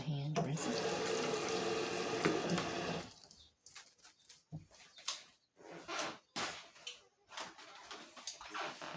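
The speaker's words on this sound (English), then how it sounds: "I'll wash my hands, rinse it." Tap water runs steadily into a kitchen sink for a few seconds during hand washing, then breaks into shorter splashing bursts as the hands move under the stream.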